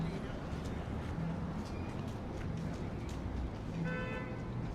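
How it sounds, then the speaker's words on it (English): Steady traffic rumble and talking fill a Toronto West End street until a car horn honks briefly near the end, fairly close. "Yes, finally, someone honked."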